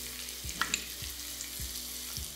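Sliced mushrooms and chopped garlic fry in a pan with salt and black pepper, a steady close sizzle with a few soft knocks of stirring at regular intervals.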